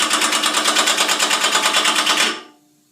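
FP-745TCI torque-controlled impact wrench set to 80 foot-pounds hammers in a rapid, even burst of close, loud impacts for about two seconds, then stops abruptly and spins down to silence.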